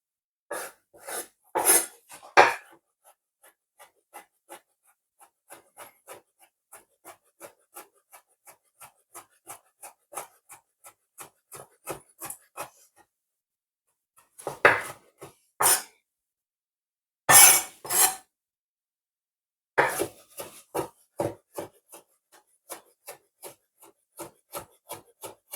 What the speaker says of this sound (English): I'm dicing them a bit.